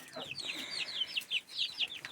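Chicks huddled together in cool outdoor air give a quick run of faint, high peeping chirps close by, several small calls following one another.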